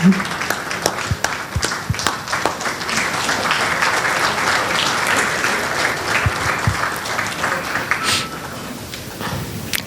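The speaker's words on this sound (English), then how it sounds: "Big round of applause." Loud, sustained applause from a sizeable conference audience at a tax conclave's inaugural session, dense clapping that swells at the start and continues steadily throughout.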